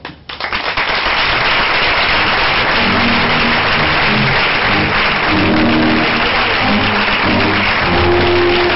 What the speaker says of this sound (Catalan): despedim a Lucía i Arantxa amb una merescuda ovació